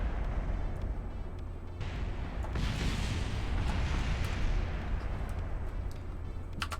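A nasty explosion in Kerbal Space Program after a spacecraft decouples, a dense rumbling roar that swells in the middle and then slowly fades, fairly quiet overall with no one talking.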